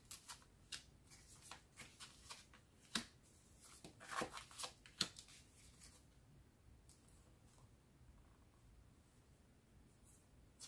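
Deck of cards shuffled and cut, a run of crisp riffling flutters and snaps close by, busiest in the first half and thinning to occasional faint ticks, without speech.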